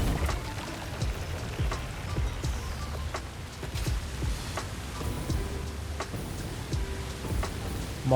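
Waterfall in Satisfactory, a steady rushing and splashing wash of falling water with scattered ticking drops, even in level throughout and with no talking.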